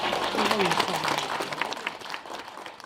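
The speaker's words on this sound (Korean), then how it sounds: "청사초롱의 인도로 신랑이 신부를 모시고 입장하고 있습니다. 큰 박수로 환영해 주시기 바랍니다" Crowd applause welcoming an elderly bride and groom entering behind traditional blue-and-red silk lanterns at a reenacted Korean wedding, with a voice and other sounds over steady clapping that fades slightly toward the end.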